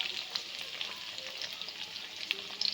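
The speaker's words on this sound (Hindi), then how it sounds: "भिंडी हमारी फ्राई हो रही है, स्लाइट ब्राउन होने तक हम कुक करेंगे।" Okra (bhindi) frying in a pan until lightly browned, a soft, continuous sizzle with scattered small pops and crackles, close and quiet, no talking.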